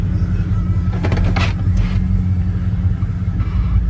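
A car idles and creeps along with a low steady engine rumble while being shuffled among a van, a RAV, a Silverado and a 240 in a crowded driveway, with a brief clatter near the start.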